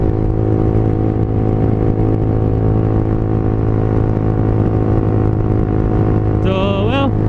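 A motorcycle engine with a 63.5mm block runs steadily at high revs toward 13,000 RPM, a loud continuous buzzing drone with a rising whine near the end, close to the listener.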